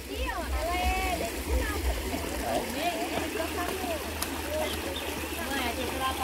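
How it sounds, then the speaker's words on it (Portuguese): A small waterfall splashes in a steady, close rush of water while people talk over it. "ou melhor, uma simples queda d'água, ó. Ó o barulhinho gostoso"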